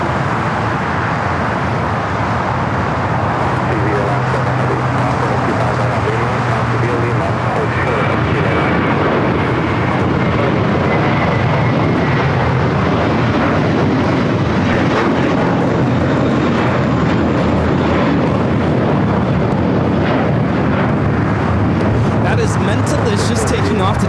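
A JetBlue Airbus A321 taking off at LAX, a continuous broad jet roar that holds steady and loud from start to finish with no talk over it.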